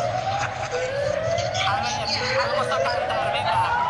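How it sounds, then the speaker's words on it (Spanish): Wailing ambulance sirens sweep up and down repeatedly over street traffic, with voices chattering nearby. "Mirad qué lío arman las ambulancias"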